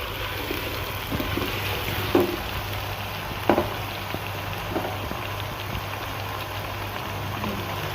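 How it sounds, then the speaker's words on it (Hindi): Ginger garlic paste frying in a pan, a soft continuous sizzle with a low steady hum underneath and a couple of brief clinks of a spoon, no speech. "इसे भी हमने फ्राई करना है 1 से 2 मिनट के अंदर ना।"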